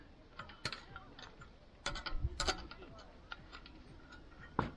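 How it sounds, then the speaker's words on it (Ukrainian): A gas canister clicks onto a portable camping stove at a quarry in the Korostensky district, with a few sharp, close metallic clicks and snaps spread over a quiet outdoor background. "Так, під'єднуємо балончик."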